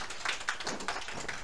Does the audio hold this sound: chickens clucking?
no